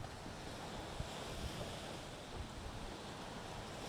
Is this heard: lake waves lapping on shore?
yes